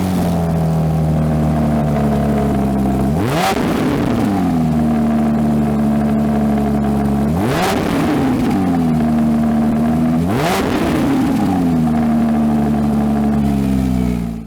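A 2022 Porsche 911 GT3 Touring revs while parked: a loud, steady idle burble broken by three sharp throttle blips that rise to a high scream and fall back, spaced a few seconds apart.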